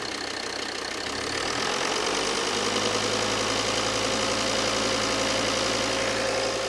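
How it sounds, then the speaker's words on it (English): A car engine runs close by with a dense mechanical clatter that rises a little in intensity after a couple of seconds and then holds steady, with no talking over it. "Little rev, please, mate."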